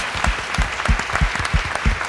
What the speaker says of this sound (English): We should give Teresa a round of applause.